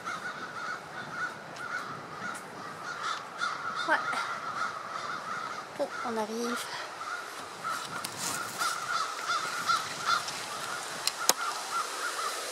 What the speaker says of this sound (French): On entend les corneilles.